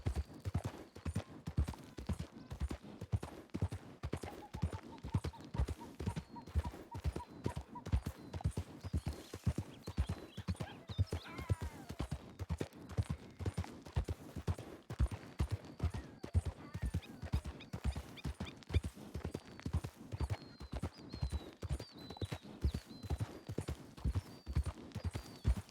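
Steady rhythmic clip-clop of horse hooves at a ride in Red Dead Redemption 2 on a WildWestRP server, near and continuous, with a faint whinny and little else.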